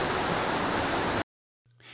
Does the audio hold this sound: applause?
no